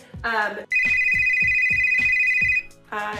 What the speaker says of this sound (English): yeah, that was a phone call